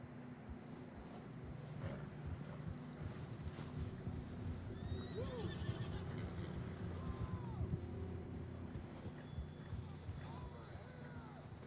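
Horses snort and whinny amid hoofbeats and a dense Red Dead Redemption 2 soundtrack, with faint voices in the background.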